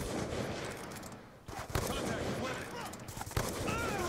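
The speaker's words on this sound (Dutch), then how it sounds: "Hij gaat net iets te traag van die DSR. Maar hij schiet wel lekker, hoor, deze sniper." DSR sniper rifle fire in Call of Duty: Black Ops 2, with sharp gunshot cracks over a dense, noisy game soundscape of shots and effects, heard at moderate level.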